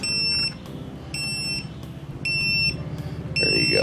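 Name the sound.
Arteck jump starter beeping reverse polarity warning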